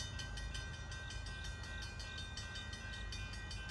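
CSX freight train on a railroad, a steady distant rumble of rolling wheels and rail noise with a faint rhythmic clatter, constant in loudness throughout.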